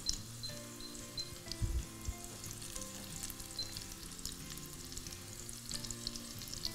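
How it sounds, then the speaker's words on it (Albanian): Pies (pite) frying in hot oil in a pan, a steady, close crackling sizzle with a brief clatter partway through and no talking. "Le të skuqen pitet tona."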